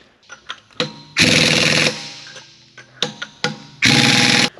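Spiked lug nuts on a 1999 Cobra's black wheel are run down with a socket on an impact gun, with two long loud rattling bursts between short taps and clicks, close by.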